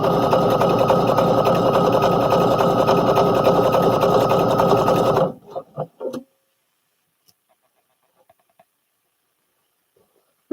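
A home sewing machine stitching a Butterick B5572 pattern runs loud and steady at close range for about five seconds with a rapid even whir, then stops, leaving a few brief clicks and near silence.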